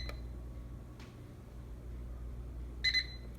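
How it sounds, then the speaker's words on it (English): Microwave oven control beeps: a faint tone near the start, a soft click around one second, then a clearer double beep near the end over a quiet room hum. "You'll hear a beep."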